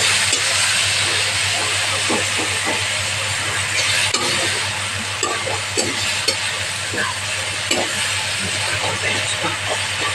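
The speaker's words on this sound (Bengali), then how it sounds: "এটা ভালো করে মিশিয়ে নিচ্ছি।" Grated onion paste is stirred in a hot frying pan, with steady hissing sizzle under repeated scraping and clicking strokes close by.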